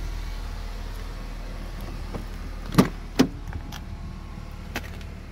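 Power windows of a 2014 Chevrolet Impala operate inside the car: a low, steady hum with two short, close clicks in the middle, no voices.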